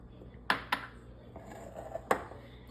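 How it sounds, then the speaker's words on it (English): Shortening being mixed into flour in a bowl comes through as a few sharp clinks and taps of a utensil against the bowl over a quiet background, spaced irregularly with soft scraping between. "I'm gonna start by mixing my shortening into my flour."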